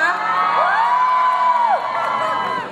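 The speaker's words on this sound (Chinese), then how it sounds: "可唔可以俾啲掌聲同埋尖叫聲聽一下？" At a tattoo contest on stage, the audience erupts in cheering and high-pitched screams, with whoops sweeping up and down over a sustained crowd roar for nearly three seconds.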